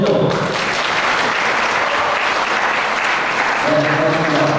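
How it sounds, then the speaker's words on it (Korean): Wedding guests in a hall applaud loudly and steadily, a dense continuous clatter of many hands with no voices on top. "큰 박수 한번 주시죠"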